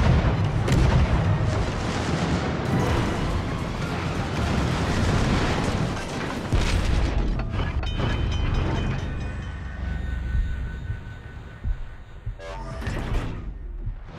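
A destroyed enemy cruiser erupts in a video game battle with a heavy, rumbling explosion that roars continuously, then fades into lingering mechanical clanks and a tonal whine.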